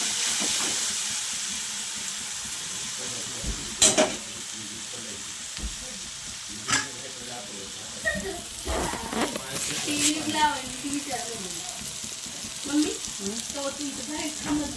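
Vegetable mixture roasting in a pan for a green bean bhaji, a continuous soft sizzle with sharp utensil clinks and scrapes, while a voice talks quietly over the second half.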